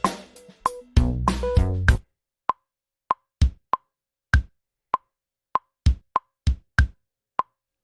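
A kick drum sample soloed in Logic Pro X: a brief busy drum passage, then about a dozen short, punchy, isolated thumps in a loose, uneven rhythm with silence between them.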